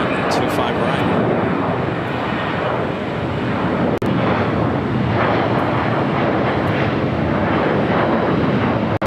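An airliner on its takeoff roll down runway 25 right at LAX: a loud, steady broadband engine roar with wind buffeting the microphone, and a voice faintly under it.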